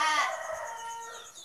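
Rooster crowing at close range among chickens, a single loud, drawn-out crow that trails off over about a second and a half with faint clucking behind it.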